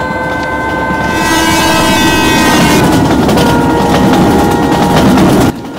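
Duronto Express passenger train, 12283 from Ernakulam Junction to Hazrat Nizamuddin, running loud and close with continuous wheel and carriage rumble, a sustained horn tone throughout, and a sudden drop near the end.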